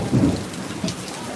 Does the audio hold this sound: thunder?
yes